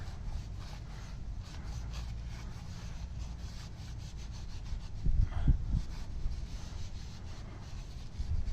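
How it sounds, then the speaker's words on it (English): Steady rubbing of a rag wiping down a part on a 2019 Jeep Cherokee KL with brake-cleaner-type compound, a continuous close scrubbing swish with a few louder knocks near the middle. "Heck, just kind of wipe this all down."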